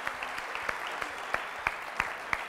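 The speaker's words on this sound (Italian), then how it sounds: "Partito un applauso, però siamo eh, convinti" Audience applause at an Italian quiz show final, a steady wash of clapping with sharper claps standing out at intervals, moderately distant and fairly quiet.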